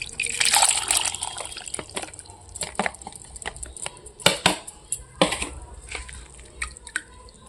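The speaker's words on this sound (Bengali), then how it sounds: "এবার এই যে জল নিয়ে নিয়েছি, জলের মধ্যে এগুলো ছেঁকে দিয়ে দেব।" Water strained through banana peels that soaked two days, splashing and dripping in uneven bursts with sharp drops and trickles, close and moderately loud with no talking.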